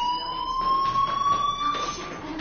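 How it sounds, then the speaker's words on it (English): A fire alarm rings in Life is Strange, a steady high electronic tone with a slowly rising pitch, loud and continuous against faint background noise. "do you hear that fire alarm? That means you should be outside."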